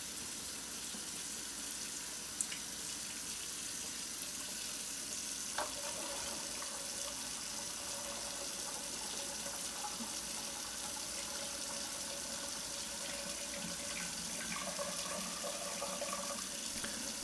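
Bleach-fix (blix) chemical for home film developing is poured back into glass San Pellegrino bottles, making a steady, continuous liquid pouring and trickling sound at moderate level that runs without a break and without talking.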